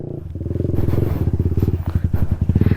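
V4 motorcycles pull slowly out of a muddy off-road trail, their engines chugging and revving up close in loud uneven pulses, with no talking.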